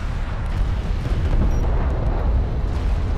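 A light attack vehicle explodes in the real-time strategy game Homeworld: Deserts of Kharak, a heavy, rumbling blast that sustains as a loud low roar with crackling debris.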